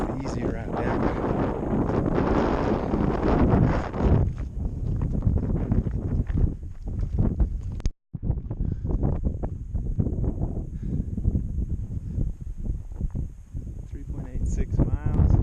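Wind buffets the microphone on a high Colorado mountain trail between Grays and Torreys peaks, a steady low rumble under crunching footsteps, with one brief dropout midway.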